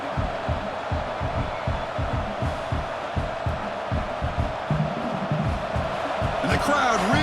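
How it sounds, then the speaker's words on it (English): Stadium crowd noise roars continuously in a College Football 26 game during a goal-line defensive stand, a dense, loud, sustained din with a commentator talking over it. "And the crowd really making some noise now, trying to help out this defense to get this stop near the goal line."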